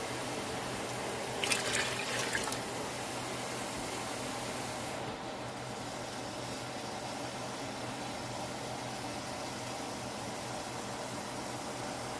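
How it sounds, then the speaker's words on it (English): Water pours steadily into a cooking pot for chili, making a continuous even rushing hiss that stays loud throughout, with no voices. "I'm going to add that water to about half the pot."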